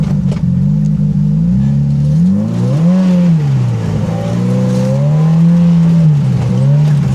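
A Polaris Pro R off-road vehicle crawling over an obstacle, its engine droning loud and close with rising and falling revs as the throttle is worked, no voices over it.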